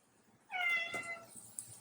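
Several cats meow eagerly over a freshly opened can of olives, with a burst of overlapping, rising cries starting partway through and tapering into softer calls.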